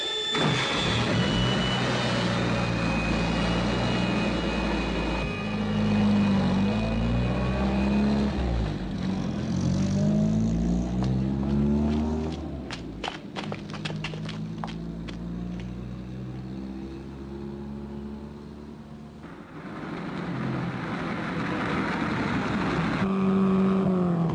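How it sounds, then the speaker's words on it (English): A car engine revs hard and loud for over twenty seconds, its pitch sweeping up and down repeatedly as it strains, with no voices over it. "This is not doing the engine any good, Jeff."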